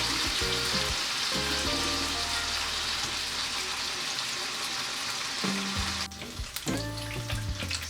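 Salmon sizzles and crackles steadily in hot oil, a constant loud frying hiss with soft music playing in the background.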